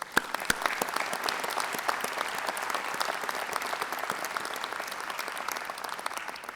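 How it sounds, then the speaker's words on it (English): A convocation crowd applauds graduates' families and supporters, with many distinct hand claps rising out of a steady, sustained wash of clapping at moderate volume throughout. "Let's give them a big round of applause."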